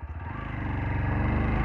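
A TVS Apache RTR 160 4V motorcycle pulls away, its engine note rising steadily and growing louder as it accelerates, with a continuous low throb close by.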